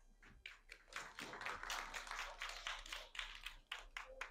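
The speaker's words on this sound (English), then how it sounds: "once again, a big applause for Dynamic Duo" An audience applauds the team Dynamic Duo at a live English presentation contest, dense clapping swelling after a few early taps and rolling on steadily throughout, fairly close and continuous, with no talking over it.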